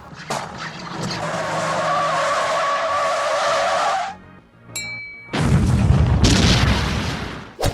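A long tire screech from a film car crash rises and cuts off, followed after a brief pause by a loud crashing burst and rumbling explosion, all close and intense.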